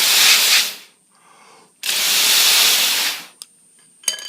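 Two long broadband hissing blasts of air are blown onto a small EZ Spin motor rotor, with a faint whirring spin and a high tone between them, then short clicks at the end.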